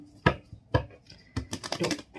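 Tarot cards shuffled by hand: two sharp single taps, then a quick burst of riffling card flutter, close and fairly quiet.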